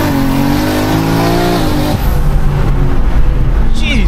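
A 1400 bhp BMW M3 Touring on low boost revs hard and climbs in pitch through second gear, loud and close, then settles into a steady roar after a brief shift.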